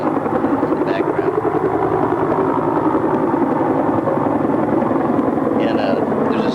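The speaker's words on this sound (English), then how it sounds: "Helicopters, you can make them out here." Military helicopters at an army training rotation at Fort Irwin, a steady loud rotor and engine drone from a distance, heard under someone talking.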